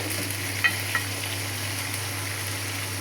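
Hilsa fish and taro curry sautéing in a pan, a low continuous sizzle with a couple of light spoon clicks against the pan near the start.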